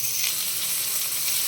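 Onions and green chillies frying in cold-pressed sesame oil, a dense continuous sizzle close up, steady and unbroken with no voices.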